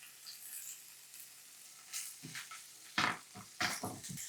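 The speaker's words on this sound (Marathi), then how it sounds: "आता 5 मिनिटं भाज्या चांगल्या परतवून घेते" Chopped carrot, sweet corn and capsicum sauté in a pan, giving short scraping stirs and bursts of sizzle at close range with pauses between.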